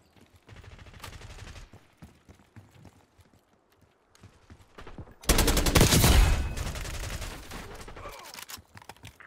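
A first-person shooter game plays with soft scattered footsteps and shots at first, then a loud, sustained stretch of rapid automatic gunfire that tapers into a few more bursts.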